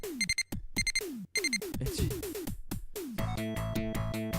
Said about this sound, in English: there's the timer type sound going off again